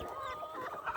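Young meat chicks raised in brooding boxes, clucking and chirping close up in one brief continuous burst of overlapping calls with no voices.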